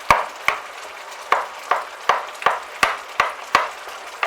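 Canned tomatoes, juice and all, are stirred into a goulash pasta sauce: a spoon knocks and scrapes the pot in a steady rhythm of about eight sharp clacks, each followed by a soft wet slosh, with no talking.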